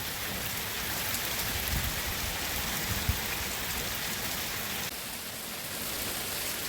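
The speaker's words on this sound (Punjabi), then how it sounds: "ਆ ਦੇਖੋ ਜੀ ਪਾਣੀ ਪਾਣੀ ਕਰ ਦਿੱਤਾ ਬਹੁਤ ਛੇਤੀ ਮੀਂਹ" Heavy monsoon rain pours down steadily, a dense continuous hiss of drops close by with no voices, lasting the whole stretch without pause.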